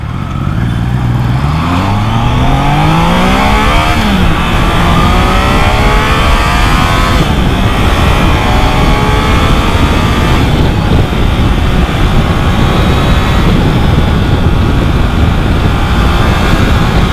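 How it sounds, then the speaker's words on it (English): A Triumph Trident 660 motorcycle's engine revs and pulls hard while riding, loud and close, with rising and falling gear sweeps over constant heavy wind and road roar. "So this is the Trident 660 for you."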